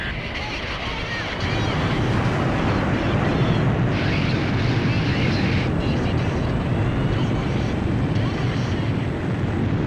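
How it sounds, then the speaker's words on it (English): A jet fighter roars off an aircraft carrier catapult in the Ace Combat 5 video game, a loud, dense, continuous engine rumble that swells suddenly after a quieter opening and holds steady throughout. "Aircraft launch confirmed."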